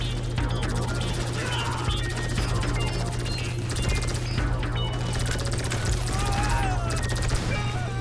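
Dense gunfire from an online match of the video game GTA 5, with shots and bursts overlapping continuously at a steady, loud level throughout the clip, mixed with other game noise.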